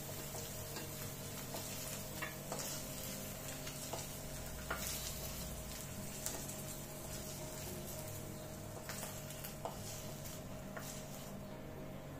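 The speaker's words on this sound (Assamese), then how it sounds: "এয়া মই পনীৰখিনি ভাজি ললো" Paneer pieces frying in oil in a home kitchen pan while cooking malai matar paneer, a steady close sizzle with occasional stirring clicks and scrapes, no voices.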